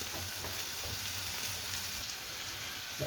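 Chopped wilted spinach being stirred into a lamb and spinach curry in a hot pan, a steady close sizzle and frying hiss with soft scraping stirs, no talking.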